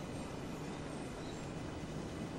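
Train running in the video game OMSI 2, a steady rumbling roll of wheels on track with a constant hiss, moderately loud and unbroken, with no one talking.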